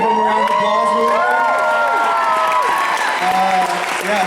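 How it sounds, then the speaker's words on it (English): Audience applause and cheering at the Mr Nighthawk 2016 event: dense, steady clapping throughout, topped by scattered whoops and shouted cheers from the crowd. "Give them a round of applause."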